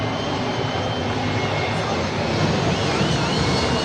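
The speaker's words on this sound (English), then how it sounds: "As the airplane hovers." An airplane passes overhead during a live NNL football match between VFC and Nnewi United FC, a broad, loud engine roar that swells steadily over the stadium ambience.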